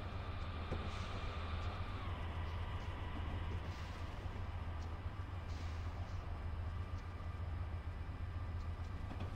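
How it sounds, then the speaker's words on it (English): A train rolls past on the local tracks in Train Simulator 2019. It gives a steady, moderately faint rumble with the low drone of the player's own train running underneath. "Hello, train. You are on the local tracks."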